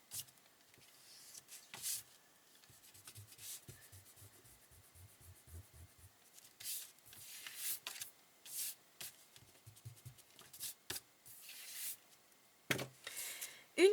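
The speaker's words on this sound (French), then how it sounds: "je vais cette fois-ci simplement gommer les traces qui pourraient me rester" Soft, intermittent rubbing of an eraser wiping pencil marks off paper during a craft project, faint scrubbing strokes in short bursts with pauses between, close and quiet, no speech.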